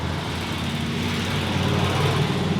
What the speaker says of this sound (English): Loud truck.